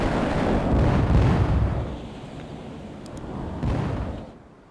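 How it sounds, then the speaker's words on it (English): Heavy artillery barrage in the World in Conflict video game (MW Mod, Paradise map): loud, rumbling explosions roll over each other, swell again near the end, then fade. "We can deploy and lay down a heavy barrage."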